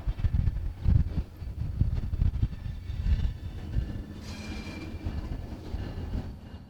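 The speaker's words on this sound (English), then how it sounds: "After switching its cars, the train makes its way back out of the Champion plant." A freight train of the Missouri & Northern Arkansas Railroad's Clinton Branch switches cars at the Champion plant, giving a close, low rumble of rolling wheels with irregular clanks and rail clicks and a faint squeal near the end.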